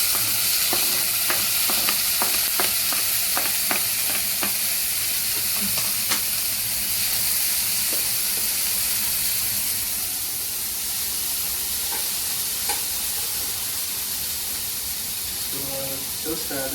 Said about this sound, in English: So I just added tomato to the pan.